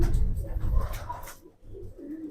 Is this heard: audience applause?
no